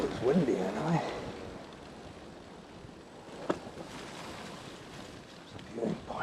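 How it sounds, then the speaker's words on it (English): Wind blows beside a loch on a walking trail, a steady rushing buffet on the microphone with gusty swells and a faint voice at the start and end. "Oh, it's windy anyway."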